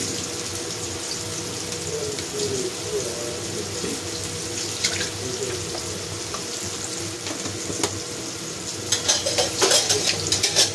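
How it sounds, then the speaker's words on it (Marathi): Onions with salt fry in a pan with a steady, continuous sizzle, close and fairly even, with occasional stirring scrapes and clinks toward the end. "कांद्यात मीठ टाकण्याची काय ना, कांदा लवकर फ्राय होतो, नरम होतो, म्हणून मी कांद्यात थोडं टाकलं."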